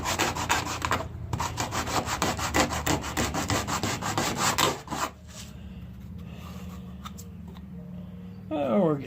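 A coarse abrasive rubs on wood in rapid, rhythmic rasping strokes for about five seconds, close and loud, then quieter scraping follows with a voice speaking under it.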